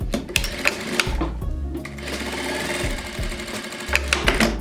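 A sewing machine stitches across fabric seams on a fabric storage container, its motor whirring in steady bursts with brief pauses and a few sharp clicks, close and fairly loud.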